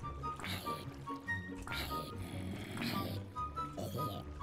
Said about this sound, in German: Boah, diese alte Wassersound, diese alten Sounds.